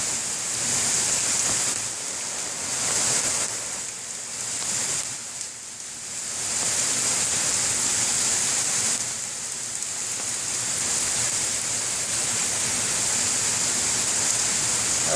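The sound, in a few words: rain falling in the woods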